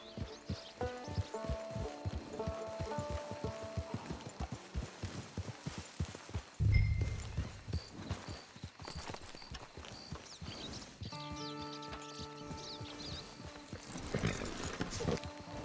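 A horse in Red Dead Redemption 2 walks along with steady, rhythmic hoof clip-clops close by, moving over soft background music, with a louder thud near the middle.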